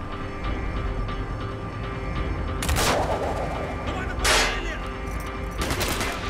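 Gunfire in the video game Call of Duty: Black Ops, with several sharp broadband bursts rising over a steady rumbling combat background, the loudest near the middle of the stretch.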